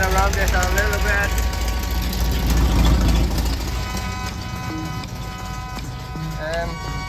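A 1968 Baja Bug engine runs steadily after a transmission overhaul, a loud, close, continuous rumble with rough knocking texture, while a person talks over it.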